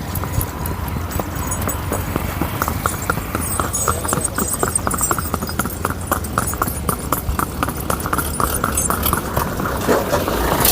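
A Sindhi mare walks with a steady, brisk clip-clop of hooves, close and continuous, the even rhythm of footfalls running throughout with faint background noise.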